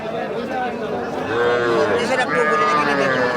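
Cattle low loudly and close by at a crowded livestock market. One long moo rises and wavers with its harmonics, over a background of chatter from the crowd.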